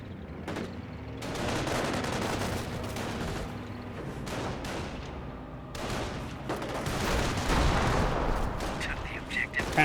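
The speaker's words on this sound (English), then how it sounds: "Rock Squad here does get suppressed by the MG42" MG42 machine gun fire in the Company of Heroes strategy game, rapid crackling bursts and scattered battlefield gunshots with a few booms, dense and busy throughout, mixed with game sounds and some voice.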